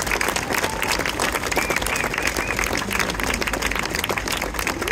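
Sustained audience applause at a French Christmas gathering after a tribute to police forces, dense steady clapping from a large crowd filling the whole stretch at an even level.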